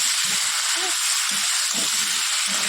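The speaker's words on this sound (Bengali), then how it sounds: "জিরা ফোড়ন দিয়ে ফুলকপিগুলো একটু ভেজে নিচ্ছি লাল লাল করে" Cauliflower pieces fry in hot oil with cumin seeds, a constant close hiss and sizzle, with a voice talking softly in short bursts over it.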